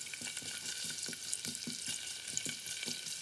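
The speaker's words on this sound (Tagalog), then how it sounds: "Naglagay na ako ng mantika. Ilalagay ko na ang bawang." Garlic and ginger sizzle steadily in hot cooking oil in a pan, a dense continuous frying hiss with soft repeated stirring scrapes roughly every third of a second, close and alone without any voices.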